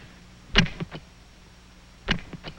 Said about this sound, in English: What is that ticking noise?